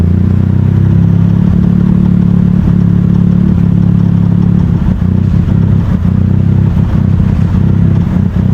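A Suzuki Cappuccino's small engine runs rough on a dyno, a loud, steady low drone with uneven clattering pulses that grows choppier toward the end, with no voices.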